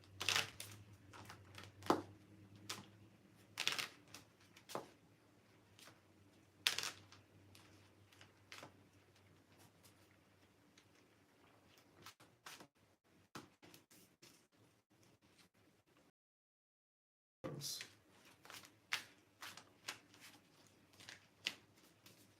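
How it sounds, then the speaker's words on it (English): Tarot cards shuffled by hand at a table for a psychic reading, a series of quick papery riffles and taps in uneven bursts, close and fairly quiet, with a brief silent gap near the end before more shuffling. "I make sure get my cards shuffled up a little bit"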